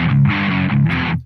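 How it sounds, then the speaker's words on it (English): An electric guitar with light distortion strikes crunchy, sustained chords, two loud held strums ringing out in close succession before cutting off. "we can get these nice crunchy chords"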